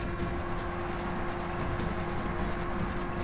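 Steady rumble of cavalry hooves galloping through a video game battle, a continuous dense clatter of many horses with no breaks and no talk.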